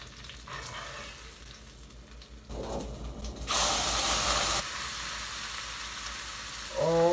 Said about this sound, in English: we're gonna give this burger patty a flip